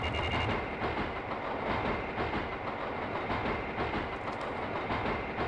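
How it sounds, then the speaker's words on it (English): A train rolling along a railway track in the video game The Silver Case, a steady loud rumble with rhythmic clickety-clack of wheels that carries on unbroken the whole time, with no voices. "Can you just put like a secret train on a train track?"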